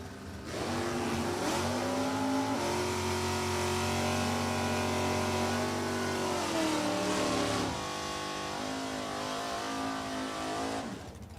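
Drag race cars in NHRA stock automatic class competition, including an '83 Camaro, launch and roar down the dragstrip at New England Dragway, with a loud sustained engine wail rising in pitch for several seconds before easing off.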